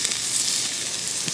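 Turkey wings sizzling on a Weber grill over indirect heat with the lid on, a steady close crackling hiss with tiny pops from bubbling juices, continuous and fairly loud.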